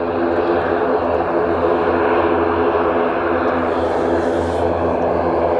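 A twin-prop Aer Lingus ATR 72-600 from Dublin, heard at Edinburgh Airport as a loud, steady propeller drone with a low engine hum that holds throughout.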